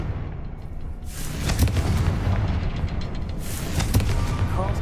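Fiery Confringo spell blasts in the Hogwarts Legacy video game: two loud, booming bursts about two and a half seconds apart, each a sharp crack that trails off into a rumbling, crackling roar.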